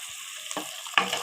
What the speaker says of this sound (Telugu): సాస్ కూడా వేసి ఒకసారి బాగా కలుపుకున్నాము